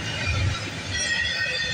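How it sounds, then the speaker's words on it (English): A CSX eastbound manifest freight train rolls down the line at Bayview Rd, a steady rumbling rail noise with faint wheel squeal, fairly close and continuous with no talking. "we got another CSX train coming down the line"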